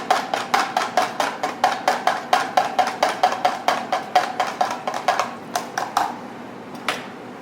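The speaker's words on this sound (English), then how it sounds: "Then a very important step is to whisk it good." A whisk clatters rapidly against a bowl while tofu is being prepared, in a steady run of sharp ticks that slows and fades out near the end.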